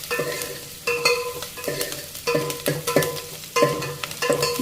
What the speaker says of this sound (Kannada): ಚೆನ್ನಾಗಿ ಫ್ರೈ ಆಗ್ತಾಯಿದೆ ನೋಡಿ.